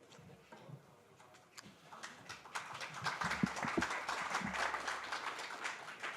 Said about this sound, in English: just keep on clapping